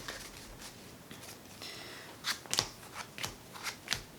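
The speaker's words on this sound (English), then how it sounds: "So let me shuffle real quick" A deck of Yu-Gi-Oh game cards is shuffled close up, with a quiet stretch first and then a burst of crisp riffling snaps and slaps repeating for a few seconds, with no talking.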